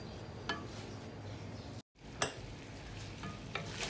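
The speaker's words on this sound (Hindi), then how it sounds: "हमारा गोश्त तकरीबन भुन चुका है।" Mutton frying in a karahi while being stirred, a soft steady sizzle with occasional scraping strokes of the spoon against the pan, quiet and close, briefly dropping out for a moment.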